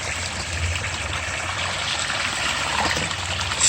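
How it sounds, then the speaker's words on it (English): Garden hose water pouring steadily into a pond, a continuous broadband trickling splash with gentle rippling, close and fairly loud, with no voices. "Now, you see how the water comes out of the hose there?"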